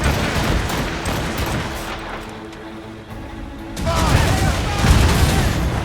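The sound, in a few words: ship cannon fire in video game Assassin's Creed Rogue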